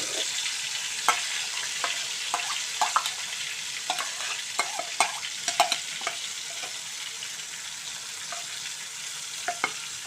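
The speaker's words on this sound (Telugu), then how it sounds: "ఈ ఆయిల్లో ఇలా మనం వేయించుకున్నాం." Green chillies, garlic cloves and cumin frying in oil on a low flame for an amla chutney, a soft continuous sizzle with scattered light stirring clicks, close and without talk.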